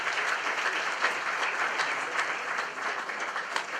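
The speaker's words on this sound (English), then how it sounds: "Please give him a round of applause." A roomful of people applauds steadily for an arriving guest from the embassy at an Azerbaijan presentation night in South Korea, a dense, even wash of clapping with no break.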